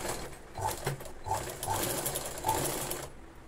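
A sewing machine runs steadily for about three seconds, stitching a twice-folded hem along the bottom of a Punjabi salwar, with a fast mechanical chatter and small pulses before it stops.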